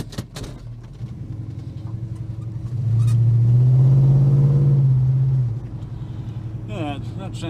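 A Holden HK car engine idles steadily up close, swelling into a louder, deeper rumble for a couple of seconds in the middle before settling back to idle.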